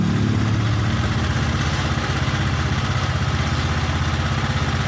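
Honda Beat ESP motorcycle engine idling while warming up with a rough, misfiring fault, a steady close putter with fast even pulses and light mechanical clatter, running alone without talk.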